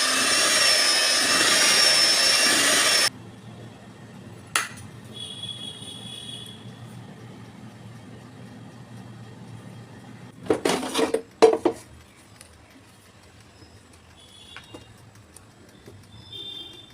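An electric mixer beats cake batter with a loud, dense whir for about three seconds before cutting off, followed by scattered clinks and knocks of kitchen utensils and a short burst of clatter.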